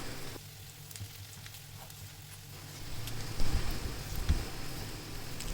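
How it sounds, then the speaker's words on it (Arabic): Diced onion and garlic cloves sauté in oil, a faint, hissy sizzle that grows a little louder, with a couple of soft knocks from stirring. "تتشوح البصله، هننزل عليها بفصين 3 توم، وبرضو نقلب التوم لحد ما ريحته تطلع"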